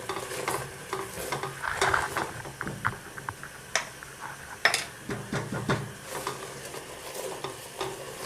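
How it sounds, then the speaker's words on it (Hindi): Boiled rice tipped into a pan of almost-melted sugar syrup for sweet rice, giving soft stirring scrapes and a low sizzle with irregular clinks of a spoon against the pan. "तो अभी हम इसमें चावल जो हमने बॉईल किए हैं वो हम इसमें ऐड कर देंगे।"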